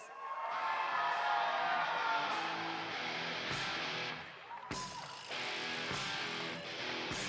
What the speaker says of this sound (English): Can we give a bigger round of applause?